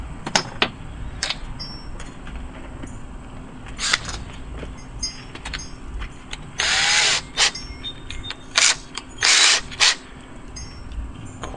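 A power drill drives screws into a door security plate in short bursts: two longer whirring runs, several brief spins, and clicks and taps between them, close and loud with no talk.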